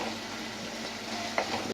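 Ash gourd peel curry frying in oil in a pan, a steady close hiss and sizzle that carries on throughout, with a light stir partway and an abrupt stop at the end.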